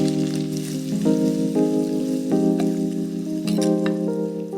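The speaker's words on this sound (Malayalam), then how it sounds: "ഓക്കെ, തീ ഒന്ന് കുറച്ച് വെച്ച് ഇച്ചിരി കറിവേപ്പില ഇടുക" Curry leaves hiss and crackle in hot oil with mustard seeds on lowered heat, a close, steady sizzle running under a tuneful background melody.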